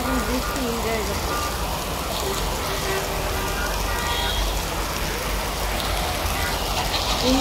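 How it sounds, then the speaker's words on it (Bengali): Steady rain falls outside an office building in Dhaka, heard from its balcony as a continuous even hiss with faint traffic rumble beneath. "আমি এখন বৃষ্টি এনজয় করছি।"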